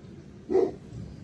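A dog barks from behind a closed door, one muffled burst of barking at moderate distance, with low room noise before and after.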